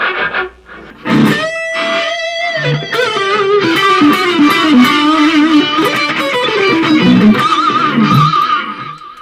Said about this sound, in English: if I set a reasonably high gain, saturated kind of British sound